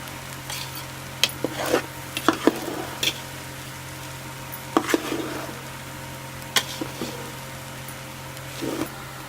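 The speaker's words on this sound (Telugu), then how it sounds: "సోయా సాసు, వేసి కలుపుకోవాలి." Egg fried rice with soy sauce is stirred in a pan over a low steady hum, with soft sizzling beneath scattered scraping and clinking taps of the utensil against the pan.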